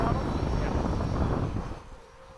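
A Freewing 90mm F-22 RC electric ducted-fan jet roars past at full throttle, a loud broadband rush that fades away after about two seconds.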